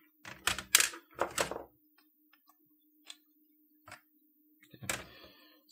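Plastic blanking plate being pried off the side of a typewriter case: a few loud clustered clicks and knocks at the start, then sparse small ticks and taps, with one more burst of clattering near the end, close and without talk.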